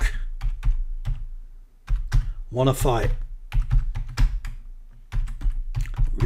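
Rapid keyboard typing with sharp, irregular clicks on a computer keyboard during icing-sheet topper design work, heard close and clear, with a brief spoken phrase partway through.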